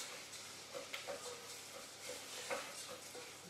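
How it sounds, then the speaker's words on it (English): Rice frying off in a pan with oil while a chicken tagine is prepared, a soft steady sizzle with a few light stirring scrapes and taps, moderately close and fairly quiet, with no talking. "we are just going to fry the rice off."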